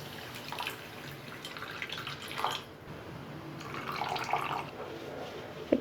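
Water pouring from a cup into a pan holding sugar for boondi laddu syrup, a soft, quiet trickle and splash in short uneven bursts, close by, with faint background noise.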